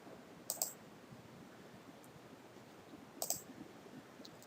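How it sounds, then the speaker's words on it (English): Two sharp, quiet computer mouse clicks a few seconds apart, heard close against a faint steady room hiss with no talking. "So just click this remove stop words part."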